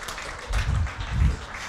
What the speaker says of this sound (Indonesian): Tepuk tangan dulu dong buat Prudential.